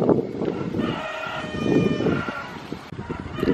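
Rooster crowing with chickens clucking in a village in the Caribbean islands, loud and close, a drawn-out crow followed by scattered clucks over outdoor background noise.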